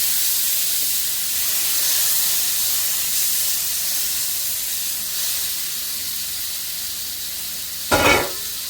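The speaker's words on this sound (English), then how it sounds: "I'm going to just put my pork chop, smother in that." Pork chop sizzling in a frying pan after the heat is turned off, a steady loud hiss of frying close by, with one sharp rattling clatter near the end.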